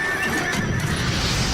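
A horse whinnies through a horse-drawn carriage scene in the 1998 PlayStation game Parasite Eve, the neigh loud and continuous over a low rumbling bed with faint hoof clatter.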